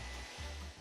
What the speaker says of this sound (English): Take a blow dryer.